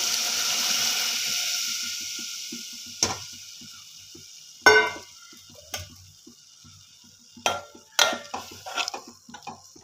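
Thick milk poured into grated bottle gourd frying in a pan for halwa, a steady soft sizzle fading down, then a few sharp clinks and scrapes of a spoon against the pan, alone without voices.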